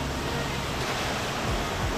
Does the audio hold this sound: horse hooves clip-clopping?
no